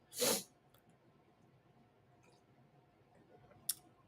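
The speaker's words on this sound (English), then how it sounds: "Excuse me, I got to sneeze." A single sharp, loud sneeze bursts out at the start, followed by quiet room tone and a faint click near the end.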